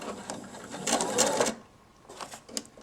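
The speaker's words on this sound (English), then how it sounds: "Put my presser foot down, begin to sew again." Home sewing machine stitching a homemade fabric face mask, running in a steady mechanical burst for about half a second, pausing, then starting again more softly, close and alone.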